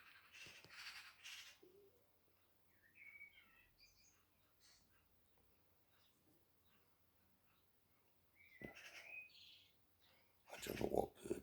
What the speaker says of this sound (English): birds singing and chattering at dusk